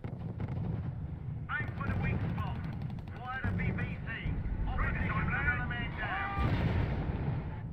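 Artillery shell explosions in the World War II strategy video game R.U.S.E., heavy booms and rumbling blasts mixed with gunfire and game sound effects, moderately loud throughout a continuous battle soundscape.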